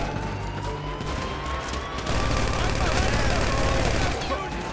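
Sustained gunfire in GTA 5, a Deadpool 2 mission battle, roaring as a dense continuous rattle that grows louder midway, with game music and effects layered beneath.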